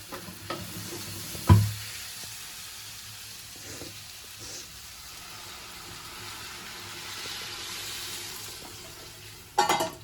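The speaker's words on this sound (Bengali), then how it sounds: "আর এই যে জলটা আমি গরম করে রেখেছিলাম সেটা এবার এর মধ্যে আমি দিয়ে দেবো" Hot water is poured into chana masala frying in a pan, bringing a sharp splash and a softer sizzle. A stirring clatter comes near the start and again near the end, with no speech.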